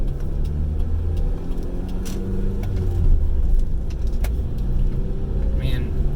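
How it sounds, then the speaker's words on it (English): A GSX car fitted with coilovers drives over small potholes and bumps, with a loud, continuous low road and engine rumble broken by intermittent knocks and rattles from the stiff suspension. "the crazy amounts of noise you get when you hit little potholes"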